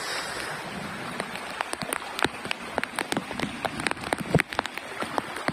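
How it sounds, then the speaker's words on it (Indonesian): Heavy rain pours on a bamboo shelter at a night campsite during a thunderstorm, a dense steady hiss broken by sharp close drop strikes. "Hujan deras."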